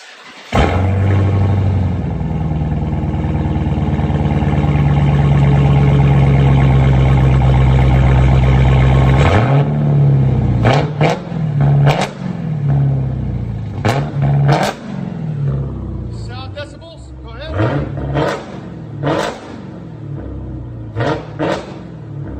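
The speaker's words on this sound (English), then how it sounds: "GTR muffler delete." A twin-turbo Nissan GT-R with muffler delete and straight pipes idles with a loud, deep drone, then gets blipped through a series of sharp revs that spike and fall back, each burst crackling close by with no talking.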